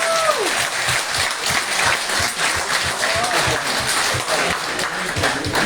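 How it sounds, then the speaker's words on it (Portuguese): Audience applause for the CAD coordination team in Germany at a Mozambican diaspora community meeting with Venâncio Mondlane: dense, steady clapping from a crowd throughout, fairly loud and close, with a few brief voices poking through. "Uma salva de palmas."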